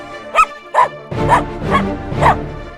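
A street dog barks close by: two short yips, then three louder, fuller barks in an uneven rhythm.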